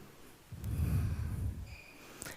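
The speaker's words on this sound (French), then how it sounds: "Encore 2 belles respirations." A slow, deep breath during a yoga session, a soft airy inhale swelling then easing into a long exhale, close and quiet with no talking.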